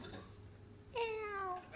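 A cat gives a single drawn-out meow, faint and fairly close, with quiet room noise before it and no talk over it.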